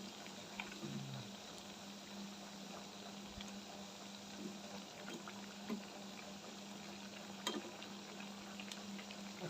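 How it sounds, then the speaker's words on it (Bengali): Pitha cakes float and bubble in hot oil, a quiet, steady, low simmering hiss with occasional faint pops. "পিঠাগুলা তেলের উপর ভাইসে আছে"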